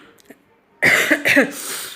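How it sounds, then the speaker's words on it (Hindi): Two harsh, close coughs in quick succession, each a rough burst of breath, after a moment of near silence. "आप देख सकते हैं खांसी मुझे जो है ना हो रही है"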